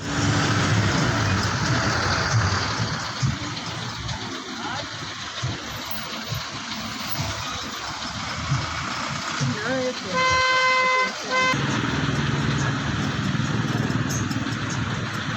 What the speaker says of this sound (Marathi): फुल ट्रॅफिक लागलेलं आहे.